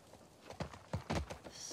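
Horse hooves clopping in The Last of Us Part II as a rider moves through Seattle, several distinct hoof strikes in an uneven gait over quiet game ambience.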